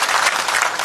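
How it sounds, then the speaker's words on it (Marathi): Applause from a crowd at a political rally speech in Kaij, a dense, steady clapping that fills the short moment with no voices over it. "आता टाळ्या वाजली"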